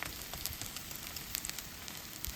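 A Korean vegetable and kimchi pancake (buchimgae) fries in oil in a pan, a faint continuous crackling sizzle with scattered small pops, heard alone without talk.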